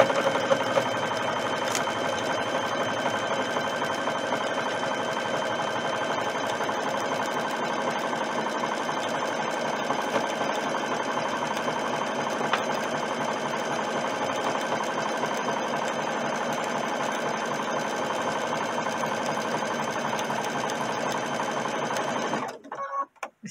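A Brother sewing machine stitches in a square around a pocket, pivoting at the corners, running as a steady, close mechanical whirr for over twenty seconds before stopping at the end.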